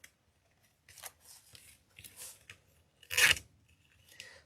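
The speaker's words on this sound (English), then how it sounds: "Go ahead and snip, snip." Scissors cut ribbon for a candy cane Christmas ribbon wreath, several close, quiet snips spaced apart, with one louder, sharper cut near the end.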